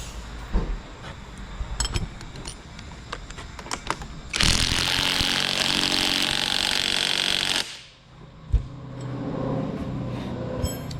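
Power tool cinching down a nut and nylock on a shock bolt of a 2013+ Ram 2500, a loud steady whir of about three seconds that stops abruptly, framed by clinks of metal parts.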